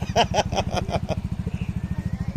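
A motorcycle engine runs steadily with a rapid, even low pulsing throughout, and a brief burst of brighter sound or voice rises over it near the start.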